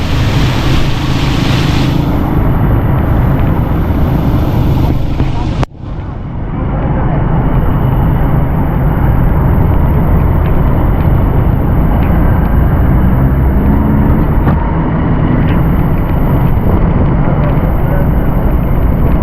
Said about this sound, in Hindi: तूफानी बारिश है सामने देखें।